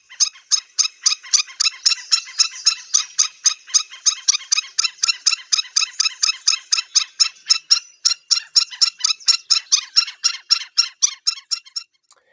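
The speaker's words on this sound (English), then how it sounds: "They have a very loud alarm call, which you will hear as you get close to other birds." A long-legged wading bird at Bair Island repeats its loud, harsh alarm call in a rapid, even series of squawks, dozens of sharp notes closely spaced and clear against silence.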